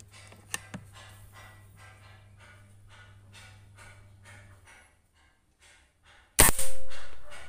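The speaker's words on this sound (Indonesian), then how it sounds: "Oke, tembakan kelima." A single sharp air rifle pellet shot cracks out loud near the end, the fifth shot of a grouping test using boxed pellets, following a quieter stretch with a couple of faint clicks and low hum.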